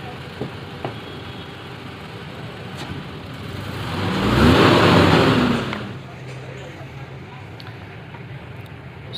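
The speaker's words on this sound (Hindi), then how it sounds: "जैसे ही एक्सीलेट करते हैं गाड़ी का RPM बढ़ने के बजाय डाउन हो जाता है और फिर डाउन होकर फिर अप होता है" A four-plug Toyota Land Cruiser engine misfiring and blowing black smoke runs at a rough idle, then swells briefly as it is revved, its RPM sagging and recovering before settling back to an uneven idle.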